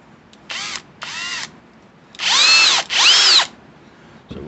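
A power drill spins a compound-loaded polishing brush inside the chamber of a sticky-ejecting shotgun, in two short whirring bursts followed by two longer, louder runs with a rising and falling pitch, close by and with no talk.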